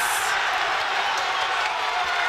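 A college basketball arena crowd at Maryland's College Park roars after a game-tying three-pointer late in a close game against Mount St. Mary's, a loud, continuous wall of cheering with scattered whoops.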